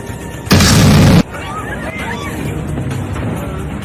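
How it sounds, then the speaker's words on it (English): A single sharp, loud bang bursts from a failing airliner engine on final approach, lasting about half a second before fading into cabin murmur with some background noise. "The passengers realize that the noise must come from the plane's last remaining engine."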